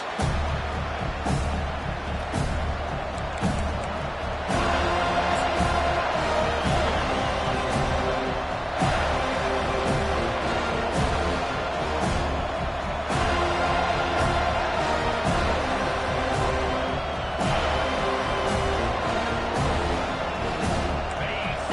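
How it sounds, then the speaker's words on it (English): Home crowd at a college football game makes a continuous loud roar with cheering swells and occasional thumps, while a commentator talks over it throughout. "this home crowd is fired up and ready to make a difference today"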